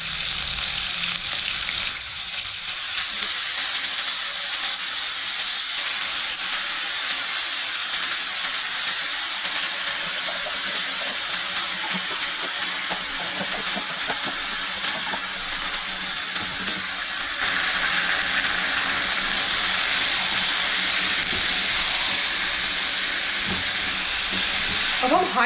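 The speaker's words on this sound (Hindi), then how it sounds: "अब हम हाई फ्लेम में ही मटन को अच्छे से फ्राई कर लेंगे" Marinated mutton fries in hot oil over a high flame, giving a steady, loud sizzle and hiss that swells slightly louder toward the end. The sizzle is close and constant throughout.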